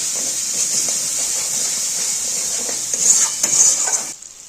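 Masala spice mix with sugar sautéing in hot oil, a bright steady hiss and sizzle with faint stirring clicks, close and loud, swelling briefly near the end before cutting off.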